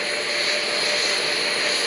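Sound suppression water floods the Artemis 2 launch pad before liftoff, a steady, loud, broadband rushing hiss that holds unbroken throughout with no talk over it.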